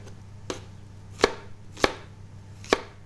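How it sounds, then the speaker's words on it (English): Knife chopping peeled potatoes on a cutting board for a Maltese rabbit stew, four sharp, separate knocks spaced irregularly over a low steady background hum, close and clear. "I'm just going to chop them into smaller pieces so we can put them in with our rabbits."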